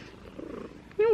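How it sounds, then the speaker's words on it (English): A cat purring while lying on someone's lap, a low steady rumble running softly through most of the moment before a brief louder vocal sound near the end. "you just stay purring on my lap"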